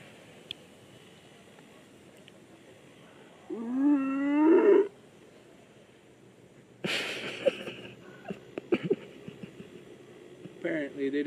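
A person imitates a Costa Rican monkey call with a brief, loud, rising roaring vocalization in the forest. A quiet pause follows, then scattered clicks, rustles and handling noises.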